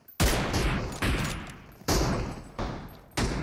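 Gunfire in the mobile battle royale game PUBG Mobile, five loud, close bursts of shooting with sharp onsets, each trailing off before the next, and no talk over them.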